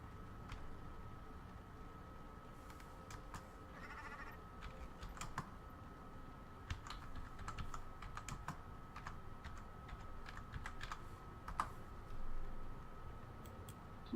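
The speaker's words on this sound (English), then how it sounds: "I was just typing at the moment." Quick, light clicking on a computer keyboard, steady bursts of keystrokes heard faintly against a low background hum.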